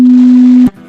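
A pure 250 Hz sine test tone plays loud and unwavering, already running at the start and cutting off sharply after about two thirds of a second.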